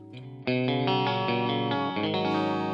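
Distorted electric guitar chords through the Nalex Ninja V3.0 high-gain amp plugin ring out with a thick, saturated overdrive tone, played loud and sustained after a brief quieter note.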